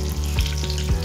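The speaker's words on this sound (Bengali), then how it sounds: "দুটো তেজপাতা, দিয়ে এবার এক মিনিটের জন্য হালকা করে ভেজে নেব।" Bay leaves and black cardamom fry in butter and oil over a medium flame, a short burst of close steady sizzling with a few soft pulses.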